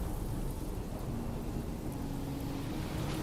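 Steady heavy rain in the game Dispatch hisses across the whole span with a deep, continuous low rumble of thunder underneath, constant and fairly quiet, with no voices.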